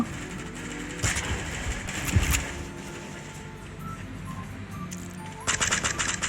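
Gunfire in the Sausage Man mobile shooter game, bursts of rapid shots over a busy game soundscape, fairly faint and mixed with other effects.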